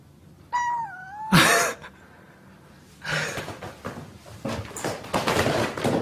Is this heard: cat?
yes